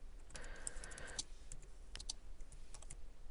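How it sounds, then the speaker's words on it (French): Keys tapping on a computer keyboard while a question is entered into an online poll form, quiet irregular clicks in short bursts close by, no voice over them. "je saisis à l'aide de mon clavier cette question."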